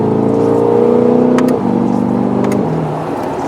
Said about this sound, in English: Engine revs really high, more so than a normal LS or LT. The shifts are very, very quick and efficient.